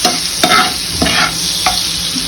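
Butter sizzling in a pan to start a white sauce for pasta, a loud steady crackle broken by a few stirring scrapes, close up with no talk.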